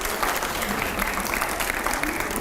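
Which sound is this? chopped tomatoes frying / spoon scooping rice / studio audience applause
studio audience applause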